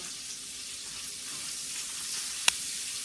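Chopped onion sautés in a hot cast iron pan, giving a steady, close hiss of frying with one sharp clink near the end and no talking.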